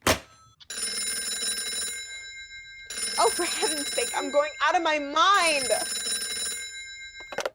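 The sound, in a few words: telephone bell ringing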